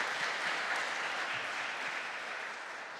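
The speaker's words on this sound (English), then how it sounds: "Big applause for Professor." Audience applause for a professor at a PhD open day at Gdańsk Tech, a steady, fairly loud wash of many hands clapping that holds throughout and fades slightly toward the end, with no talking.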